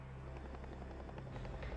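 A military helicopter losing power over a mountainside thumps with a rapid, steady rotor pulse, loud and continuous, with no speech.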